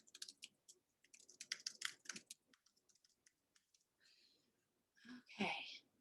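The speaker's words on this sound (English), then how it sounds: "So I'll type that one more time." Typing on a computer keyboard, a quick run of soft clicking keystrokes in a quiet room, followed by a louder burst of breath or sniffing near the end.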